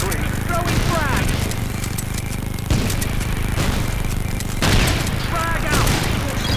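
Frag grenades explode in a video game with heavy, booming blasts at intervals, mixed with continuous battle noise and in-game voices.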